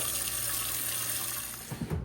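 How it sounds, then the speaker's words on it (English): Tap water pours steadily into a pan, a close, continuous rushing hiss, with a few soft clunks toward the end. "Fill pan with water."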